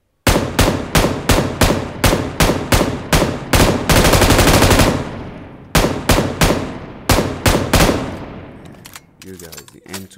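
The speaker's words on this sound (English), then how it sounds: "the M249, the recoil is crazy" An M249 machine gun in the video game PUBG Mobile fires loud, close bursts of rapid shots, with short pauses between them and one long sustained stream in the middle before the bursts taper off.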